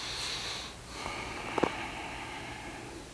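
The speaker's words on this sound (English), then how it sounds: "nice deep breath" A single slow, deep breath drawn in through the nose during a face-down couples massage, soft and close with a brief sniffing peak.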